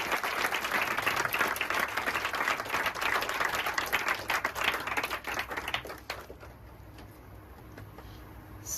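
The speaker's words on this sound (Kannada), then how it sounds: "ಎಲ್ಲರಿಗೂ ಒಂದು ದೊಡ್ಡ ಚಪ್ಪಾಳೆ ಬರಲಿ." A crowd gives sustained applause at a veena concert: dense, loud, continuous clapping for about six seconds, then it thins out and dies away into quieter room sound.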